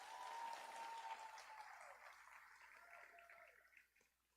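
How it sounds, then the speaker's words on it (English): A pageant crowd applauds, loud at first and then gradually thinning out and fading toward the end, with a few cheers mixed in. "how about one more round of applause for these guys"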